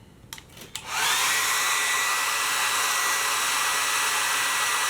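A hair dryer blows on wet leather during a leather repair: a few faint clicks, then the motor spins up into a steady, loud whooshing drone that continues unbroken.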